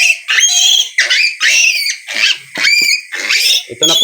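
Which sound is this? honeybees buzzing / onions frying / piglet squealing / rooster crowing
piglet squealing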